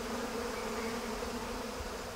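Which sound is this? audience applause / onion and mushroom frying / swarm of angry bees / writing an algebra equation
swarm of angry bees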